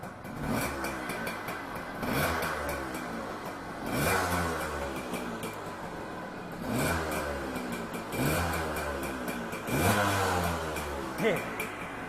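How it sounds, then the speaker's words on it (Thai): A Yamaha DX100 motorcycle engine runs at a steady idle, its low rumble broken by a few brief surges every couple of seconds, with a faint voice in the background. "ทดสอบเครื่องยนต์ นี่ ดูรอบเดินเบานะฮะนิ่มๆเนียนๆเลย"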